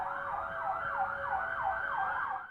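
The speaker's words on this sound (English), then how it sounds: "These Met vans used their sirens." Metropolitan Police vans sound their sirens in a street, giving a steady, repeating wail that rises and falls about every half second and carries loud and unbroken, with no talk.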